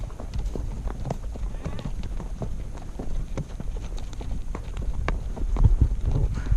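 Horses walk along a trail on a ride, hooves clip-clopping in a steady uneven rhythm nearby, while people talk over them.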